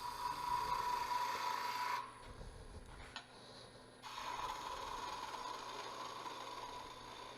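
Skew chisel's long point cutting spindle wood on a lathe to shape a small ball at the top, a steady scraping rasp that pauses briefly midway, then resumes as continuous cutting over the motor hum.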